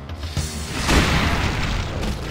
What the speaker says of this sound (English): That explosion should have killed me,